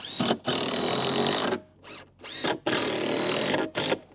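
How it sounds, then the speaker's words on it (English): A power drill drives screws into a wooden shed truss and plywood gusset, several loud whirring bursts of varying length separated by brief pauses, no talk. "I'm gonna drive one screw into each area back here."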